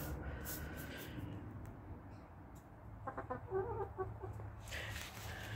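Chickens cluck in a short, scattered burst midway through, over a steady low outdoor hum with no talking.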